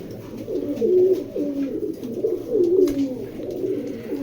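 Pigeons at a pigeon farm coo close by in soft, rolling throaty phrases, two or three overlapping calls repeating over a few seconds, with no talking.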